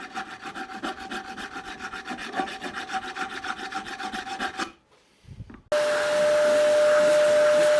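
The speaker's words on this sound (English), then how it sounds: "Sometimes the fret you're filing has not got exactly the same profile as inside that file." A file scrapes across the frets of an Eastcoast MT1 guitar in a fast, even back-and-forth rhythm. It stops, goes quiet for a moment, then a steady whirring hum begins.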